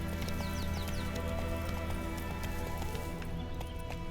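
Horse hooves clip-clop steadily in a video game, a constant busy mix of hoof beats over dense background game sound with no quiet moments.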